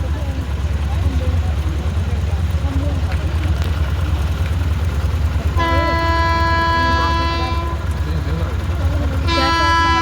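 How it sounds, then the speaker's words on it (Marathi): A train rumbles steadily nearby as its horn blares twice, one long blast then a shorter one, over a low, continuous roar. "थोड्याच वेळात रेल्वे येणार आहे, ते पण मी तुम्हाला दाखवते."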